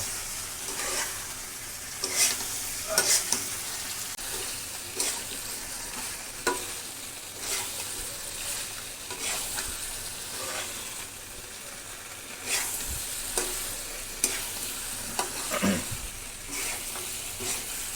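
Desi chicken frying in a pan for a green chilli curry, with a continuous loud sizzle and repeated scraping stirs of a spatula, close up, with no talk.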